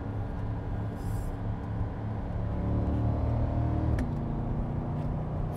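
Chevrolet C8 Corvette pulls hard through its gears, a steady low engine drone climbing in load that cuts out abruptly near the end, loud and close from inside the cabin with no talking.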